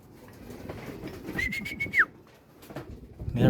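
A racing pigeon at the last lap of a summer race, heard as a soft cooing and a brief whistling tone that rises and then drops off. Rustling and handling noise from close by run underneath it.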